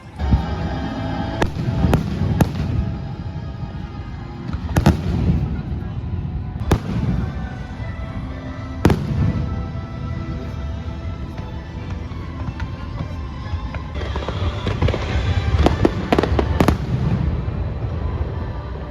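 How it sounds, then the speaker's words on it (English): A fireworks display at Epcot, Walt Disney World, booms and crackles in repeated sharp bursts over a loud, continuous background of music and crowd noise, with people talking nearby. "it ended up being such a great view of the fireworks"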